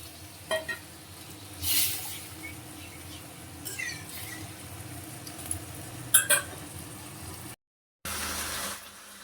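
Arhar dal tipped into a hot pan for an Indian curry sizzles softly while a spoon scrapes and stirs it in a few short bursts, over a steady low hiss.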